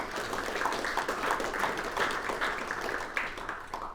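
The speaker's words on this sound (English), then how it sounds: "could we have a round of applause for the committee who's organised today" Audience applause at a monthly paid lunch event, a steady round of many hands clapping that sustains for several seconds at even loudness, with no talk over it.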